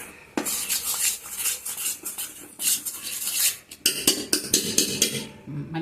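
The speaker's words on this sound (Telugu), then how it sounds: "వేసాక ఇప్పుడు మనము ఇదంతా కలుపుకోవాలి. బాగా కలపాలి." Boondi batter ingredients, flour and salt, stirred in a bowl, with a utensil scraping and clinking against the sides in quick, uneven strokes and short pauses, close and fairly loud.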